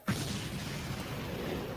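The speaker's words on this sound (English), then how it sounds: "Explosion, obviously." A booming explosion effect hits at the start of a metal track on Napalm Records, then a dense, sustained roar fills the rest of the stretch with no voices.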